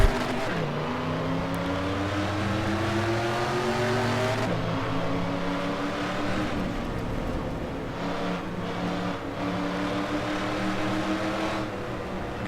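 Race car engines in the NR2003 stock car racing game, a steady loud drone of many motors holding and shifting pitch together, revving continuously without a break.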